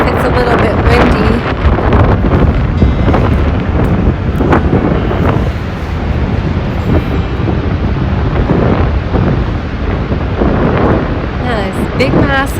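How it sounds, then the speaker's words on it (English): Wind blows hard across the microphone outdoors near Niagara Falls, Canada, creating loud, continuous roaring buffeting over a gusty rumble. A person's voice is partly audible beneath the wind. "Sorry if it's a little bit windy."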